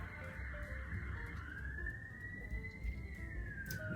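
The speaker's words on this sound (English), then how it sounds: "Oh, we have a siren." A distant emergency siren wails with a rising and falling tone, steady and moderately loud above low background rumble, heard from indoors with no talking.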